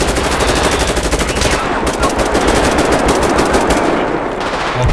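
Sustained automatic fire from a GTA V machine gun, fast and loud, pounding almost nonstop with only a slight dip partway through before easing near the end.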